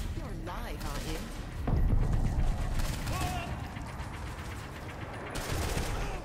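Rapid bursts of gunfire from the Saints Row 4 video game come in clusters beneath loud, busy game effects and music, with a short pause between volleys and no clear talk over them.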